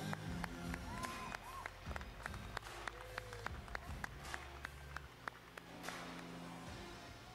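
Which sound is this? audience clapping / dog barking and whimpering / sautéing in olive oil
audience clapping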